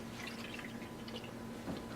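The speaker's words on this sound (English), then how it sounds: "So now we're going to start by putting the water in" Water trickles and splashes into a bowl while making oobleck, a steady soft gurgling and dripping that runs continuously and fairly quietly throughout.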